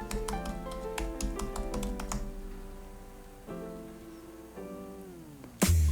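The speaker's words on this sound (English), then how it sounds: "you just put in your name and you can type in your username" Fingers type a username on a computer keyboard, a quick run of crisp, close key taps for about two seconds, then a few separate clicks over a faint background hum.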